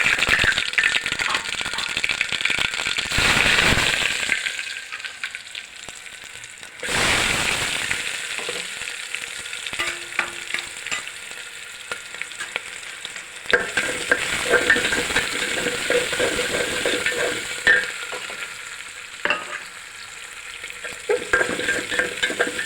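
Tempering for a brinjal bajji dish crackles and sizzles loudly in hot oil, with stirring rattles and scraping in bursts and a brief quieter lull midway, no talk.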